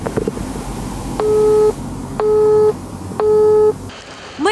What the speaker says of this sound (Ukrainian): Телефонна лінія увесь час була зайнята.